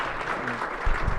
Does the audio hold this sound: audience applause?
yes